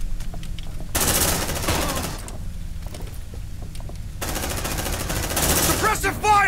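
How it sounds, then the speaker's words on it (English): A deployed sentry gun in the video game Aliens: Dark Descent fires in loud sustained automatic bursts, two long stretches of rapid shots separated by a quieter gap with clanking mechanical sounds, and voices talk over it. "Deploying sentry gun!"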